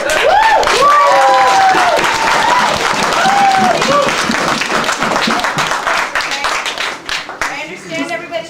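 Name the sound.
audience applause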